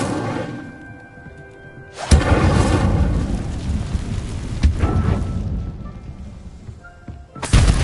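An Incendio fire spell cast in Hogwarts Legacy erupts as a loud burst of roaring, crackling flame, with a second sharp blast returning at the end after a calmer stretch of ambient game sound.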